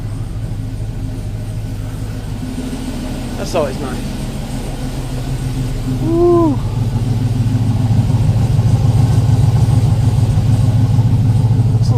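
Chevy Avalanche V8 with a performance cam idling close by, a steady low lopey rumble that swells slightly partway through, with someone talking over it.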